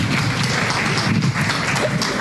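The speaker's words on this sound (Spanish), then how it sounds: "Lo recibimos con un enorme aplauso." A live audience at a vegan festival talk applauds warmly, giving a sustained, dense wash of clapping that stays fairly even in loudness from start to finish.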